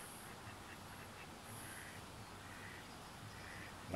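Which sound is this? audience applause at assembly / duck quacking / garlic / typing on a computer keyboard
duck quacking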